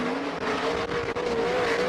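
Speedway race cars lapping a night track during heats at Warrnambool in 2002, a loud, continuous engine roar with slight dips as cars pass, no talking.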